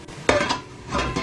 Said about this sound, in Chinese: 水烧开以后我们放上笼屉